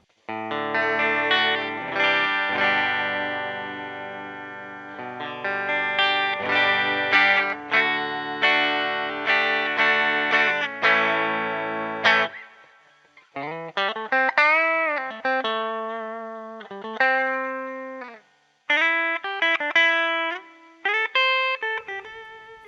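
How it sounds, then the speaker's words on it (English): Budget electric guitar played clean through the bridge humbucker pickup, ringing chords and single notes with sustained, slowly decaying tones, some bent or sliding, with light chorus shimmer and short gaps between phrases. "Got the guitar plugged in, and we'll run it through some clean tones. This is on the bridge humbucker."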